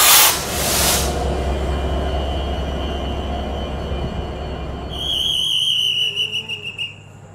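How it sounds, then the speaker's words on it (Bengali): The Chitra Express rumbles along behind an American Progressive 3200 hp locomotive, a loud broadband roar; near the end a long, wavering horn blast rings out over it and then fades. "আমাদের ট্রেনের যাত্রা বিরতি শেষ এবং আমরা যাত্রা শুরু করলাম খুলনার উদ্দেশ্যে"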